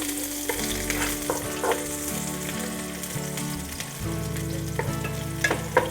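Garlic fries in a hot pan with a loud, continuous close-up sizzle. Scattered spatula clicks and stirring scrapes sit over a steady tonal background.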